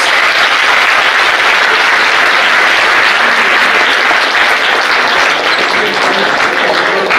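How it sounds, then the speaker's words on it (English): A large audience at a university vice chancellor's oration in Bengaluru bursts into dense, steady applause, loud and sustained for the whole stretch without a break and with no talk over it. "Could you please join me in putting your hands together for a very, very big round of applause."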